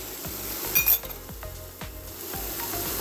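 Beef and onions sizzle in a skillet with chili powder, cumin and salt, a steady close fry broken by repeated scraping stirs and a couple of sharp metallic clinks.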